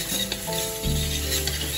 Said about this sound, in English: once you start getting the sizzle, I guess you can hear that